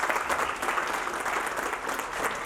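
An indoor crowd at a retirement party claps loudly and steadily, with dense, even applause that fills the whole short stretch.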